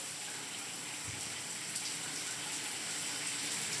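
Hot water runs from a shower in a home under inspection, a steady broadband hiss of spray and splashing that holds evenly throughout with no talking.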